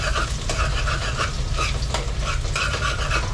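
Garlic and ginger sizzle in a hot pan while a utensil stirs and scrapes through them, producing a continuous close frying hiss dotted with rhythmic clinks.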